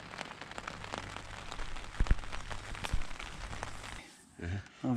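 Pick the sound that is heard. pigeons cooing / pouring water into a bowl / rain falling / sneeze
rain falling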